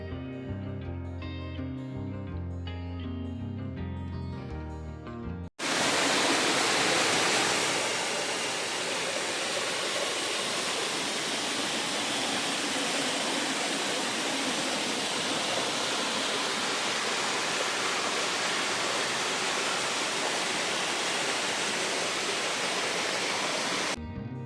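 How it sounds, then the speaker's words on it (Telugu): After a few seconds of music, the Ranajilleda waterfall takes over as a loud, constant, broad roar of falling water, heard close and unbroken to the end. "మనం ఇప్పుడు రణజిల్లేడు వాటర్ ఫాల్స్ దగ్గర ఉన్నాం."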